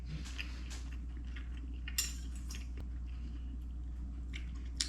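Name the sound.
biting and chewing sausage, onions and mushrooms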